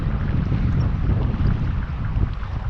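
Steady wind rushes over a fishing boat drifting on a river current while fishing for pike and perch, a loud continuous low roar with microphone buffeting and no talk.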